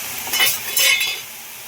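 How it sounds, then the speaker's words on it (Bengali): Cumin seeds stirred in a hot pan of papaya, two quick close scraping strokes of a spoon over a soft sizzle, brief and without talking. "এটা একটু কাঁচা জিরে দিলাম। এবার আবার নাড়বো।"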